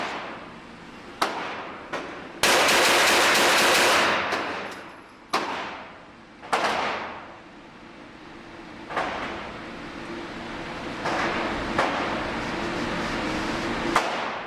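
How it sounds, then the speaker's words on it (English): A Glock 34 pistol fires a rapid string of sharp, loud shots at a target 21 feet away on a shooting range, each report cutting through and ringing out, with bursts spaced irregularly across the clip. "DC is going to shoot here. He's got the target at 21 feet, and he's going to rock and roll a little bit."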